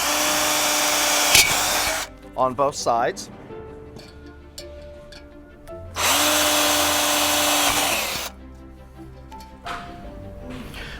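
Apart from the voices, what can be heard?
power drill drilling a pilot hole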